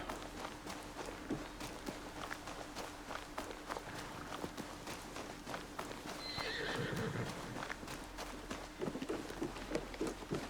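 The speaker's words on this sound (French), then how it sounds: "J'ai entendu un cheval dans l'écurie" A horse in a stable in Assassin's Creed Shadows clip-clops at a walk, with a neigh partway through and some shuffling, set against a steady low hum.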